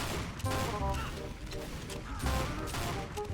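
Rapid gunfire and explosive bursts from a Team Fortress 2 match crowd the clip, loud and dense with overlapping shots, with a voice talking over the action.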